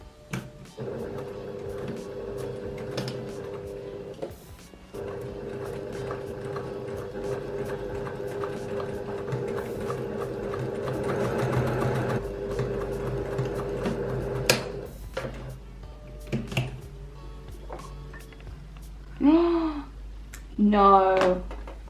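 A domestic sewing machine stitching a bias-cut dress runs in a steady, close whir for several seconds, pauses, then runs again before stopping. Brief clicks and handling noises follow, and a voice speaks near the end.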